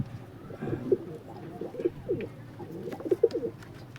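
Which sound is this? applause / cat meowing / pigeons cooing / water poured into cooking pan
pigeons cooing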